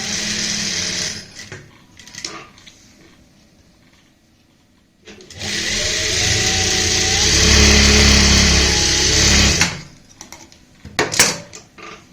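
Sewing machine stitching piping onto stiff buckram for a plain-fabric neck design, a steady mechanical whir running several seconds in one burst, framed by quieter handling sounds before and after.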